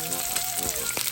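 Korean-style samgyeopsal pork belly frying in a pan with its own rendered oil: a steady, close sizzle with small crackles throughout.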